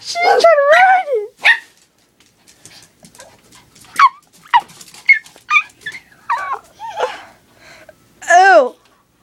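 Two dogs play together indoors, trading scattered yelps, whines and sharp barks in irregular bursts, some loud and close, with quieter snuffles in between.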